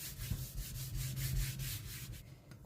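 Wiping a wooden cutting board that was sanded and freshly oiled: a steady, close-up dry rubbing with rhythmic back-and-forth strokes, continuous for a few seconds and fading near the end, with no speech.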